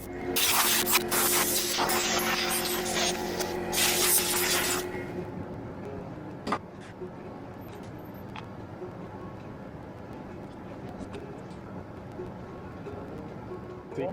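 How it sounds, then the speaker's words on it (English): Carburetor cleaner sprays from a can onto the carburetor of a 5 hp four-stroke Mercury outboard. A loud, close hiss lasts about five seconds, then quieter handling noises and faint clicks follow. "maybe an air compressor blow and a little carburetor cleaner"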